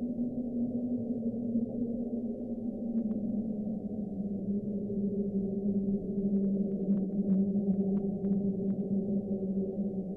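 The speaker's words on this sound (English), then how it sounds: "the source of the sound was most likely to be from a large iceberg that had run aground off Antarctica" Underwater recording of a sound thought to come from a large iceberg run aground off Antarctica: a sustained, droning low hum with slowly wavering tonal bands, steady and unbroken, with a few faint clicks above.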